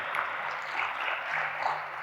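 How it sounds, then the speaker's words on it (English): Audience applause for Coach Jen at a coaches conference: a soft, continuous patter of many hands clapping, moderately distant and even in level, with no voices over it. "clap your hands for Coach Jen"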